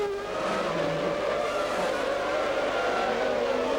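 Formula 1 cars from the 1995 season racing along a circuit's start-finish straight, a continuous high engine whine with shifting pitch, fairly distant, steady and loud throughout.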